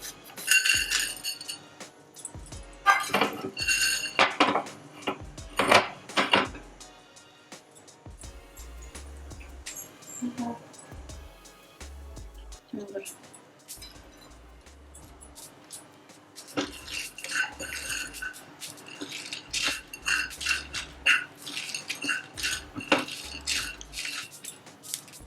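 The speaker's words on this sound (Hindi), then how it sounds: "आमे जो गोटा गरम मसाला रखिथिले ताकू एबे टिके भाजीबा" Whole garam masala and a bay leaf dry-roasting in a pan on the gas for an Odia chicken ghee roast, with bright clinks and scrapes of a spoon against the metal in irregular bursts, with quieter stretches between them.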